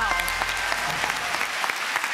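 A studio audience claps in steady, dense applause, loud and continuous for a couple of seconds at a German TV show.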